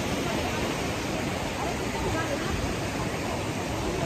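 Canal water at Sahastradhara near Dehradun rushing steadily, a loud, close, continuous wash of noise that drowns out everything else.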